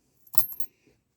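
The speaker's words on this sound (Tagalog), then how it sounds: "mga barya na pampaswerte" A few lucky coins drop and clink together inside a 2008 Kia Picanto, a single brief metallic clatter, close and alone.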